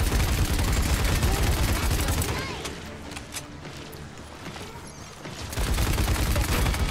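Rapid gunfire bursts from the video game Paladins, dense and loud during a hectic fight, easing briefly mid-clip before heavy shooting resumes, with players shouting over it.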